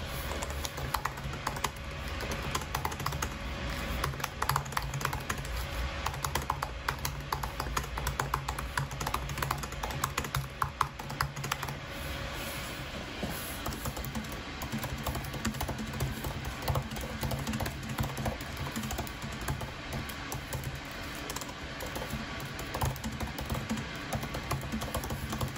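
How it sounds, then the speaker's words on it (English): Rapid continuous typing on the keyboards of a 15-inch 2017 and a 16-inch 2019 MacBook Pro, a dense stream of light key clicks and taps close by with no talking. "I'm going to type something really quick on both of them here in Word."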